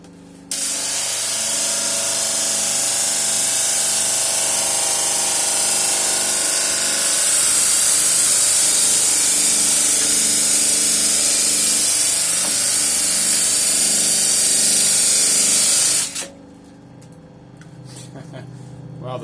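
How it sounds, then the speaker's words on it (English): A homemade disc sander runs hard against wood, a loud, continuous hissing abrasive roar lasting about fifteen seconds before cutting off abruptly, leaving quiet room noise. "Well, the disc sander certainly ain't slowing down."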